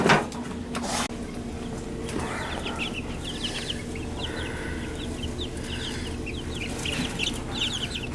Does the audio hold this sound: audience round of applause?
no